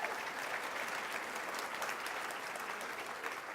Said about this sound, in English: And a round of applause for Stephen, who agreed to do this.